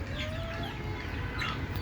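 Desi hens clucking at close range at feeding time, soft repeated clucks layered over one another in a short burst with no talking.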